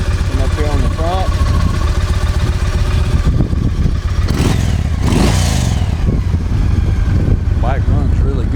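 A Yamaha Raider motorcycle engine runs loud and close, holding a steady idle rumble with a few rev swells. It continues throughout without a break.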